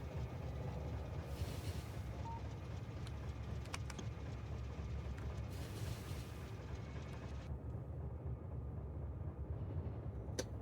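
A train rumbling steadily in a factory-building video game, a continuous low mechanical drone with faint clicks and brief hisses, holding at an even loudness throughout.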